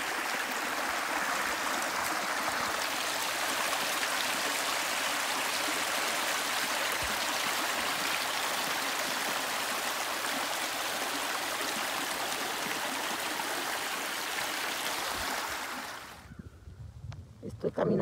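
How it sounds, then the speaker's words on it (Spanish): A river in the Gatlinburg, Tennessee area gives off a steady, broad rushing murmur of flowing water for about sixteen seconds, then drops off sharply into a few soft, close handling sounds at the end. "El murmullo de este río."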